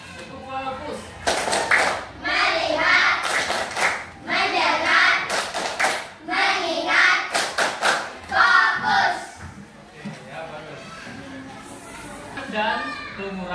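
A class of students claps together in a practiced rhythmic pattern, repeated clusters of quick loud claps separated by short pauses, with children's voices and chatter between the bursts, during a school math lesson.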